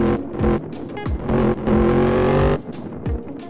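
A motorcycle in SA-MP (GTA San Andreas) revs loudly in repeated surges, its engine pitch sweeping up and dropping between bursts, close and dominant with no talk over it.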